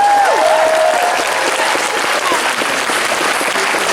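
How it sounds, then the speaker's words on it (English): An audience at the Auto Assembly 2015 closing ceremony applauding the convention's dealers, a dense, loud, sustained wash of clapping from a crowd lasting four seconds, with a faint bit of voice briefly audible at the start. "Give a round of applause to all of our dealers"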